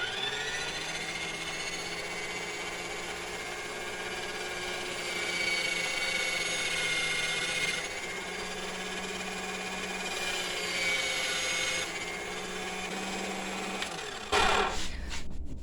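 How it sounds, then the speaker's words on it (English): Small grinder smoothing a costume jewelry piece being made into earrings, a steady high whine running continuously with slight pitch shifts as the piece is pressed on, ending with a brief clatter. "Now I just have this little spot right here to put on the grinder so it gets nice and smooth."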